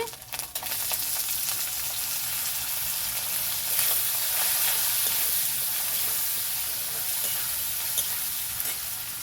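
Chopped tomato sizzles in hot oil while masala potatoes fry with ginger paste, a steady, dense crackle and hiss that runs close and loud throughout, with faint stirring and no voices.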